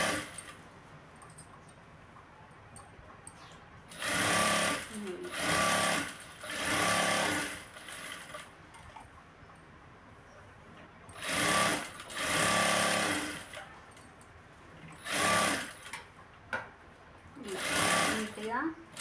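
Sewing machine stitching a blouse, running in several loud close bursts of steady whirring separated by pauses, with a person talking between runs.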